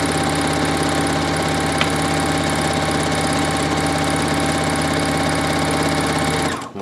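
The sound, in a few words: sewing machine stitching through four layers of fabric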